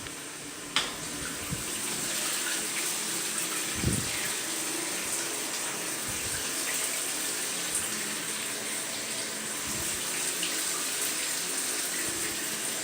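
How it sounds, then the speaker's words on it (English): Shower water runs steadily over frozen chicken to thaw it, a constant hissing spray with occasional splashes and thumps, no talking. "so let's turn the water off"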